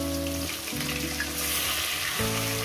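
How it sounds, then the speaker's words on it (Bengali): Fish frying in a hot pan while a light fish curry is being cooked, a steady close sizzle and crackle running throughout with a faint underlying hum and no talk. "মাছগুলো আমি দিয়ে দিয়েছি, মাছগুলো ভাজা হবে।"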